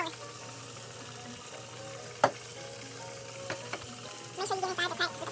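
Swai fish coated in flour frying in hot oil, giving a steady, close sizzling hiss throughout, broken by a sharp clink partway through and a louder burst of crackling and spattering near the end.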